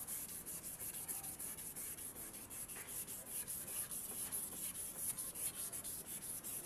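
800-grit sandpaper rubs across a car headlight during restoration, a faint, steady scratchy rasp of repeated back-and-forth strokes with no talking.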